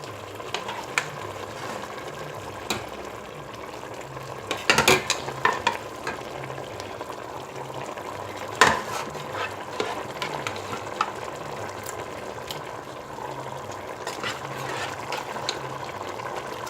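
Aubergine sauté with soy sauce being stirred in a pan, a quiet continuous sizzle broken by occasional sharp utensil clacks and scrapes, two louder knocks standing out, no voices.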